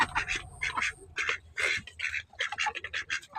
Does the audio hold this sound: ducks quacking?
yes